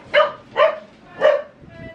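A dog indoors gives three sharp, close barks in quick succession, ending with a softer whimpering yip.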